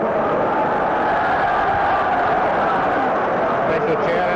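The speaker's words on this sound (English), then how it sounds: "special cheering across to" A stadium crowd at the 1967 rugby league cup final sends up steady cheering and roaring, a broad continuous wash of voices with a commentator speaking over it.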